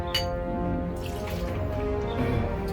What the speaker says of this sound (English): after putting 2 ounces of rye whiskey